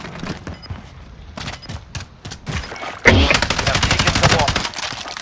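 Rapid gunfire bursts in Call of Duty Modern Warfare, sparse sharp shots at first, then a dense, loud automatic volley from about three seconds on, with faint voices beneath.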